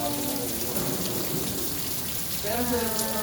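Steady, dense rain roars without a break, a broad wash of noise that sounds close and heavy, with a faint tonal hum surfacing near the end.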